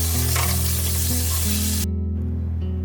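Potatoes and aubergine with green chillies sizzle steadily in a pan, a loud close frying hiss with a low electrical hum underneath that cuts out near the end, leaving the quieter sizzle.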